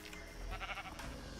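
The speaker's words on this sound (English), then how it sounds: "Oh, great, two donkeys, Muffin and Muffy." Minecraft donkeys braying in-game, a short run of raspy, bleating calls at moderate level over faint background game ambience, with no talk.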